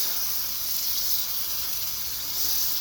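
General Tao sauce reducing in a pan, a steady soft bubbling hiss that stays even and close throughout with no voices over it.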